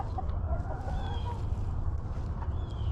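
Hens in a chicken yard, soft clucks and brief calls scattered over a steady low rumble of background noise, moderately close, with no one talking.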